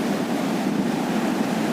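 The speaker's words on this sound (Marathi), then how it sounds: "मोठमोठ्या लाटा चालू आहेत कशा बघा" Sea waves at high tide rolling onto Guhagar beach in the morning, a steady broadband wash of surf with some wind, continuous and fairly loud throughout with no voices.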